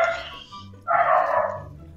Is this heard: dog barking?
yes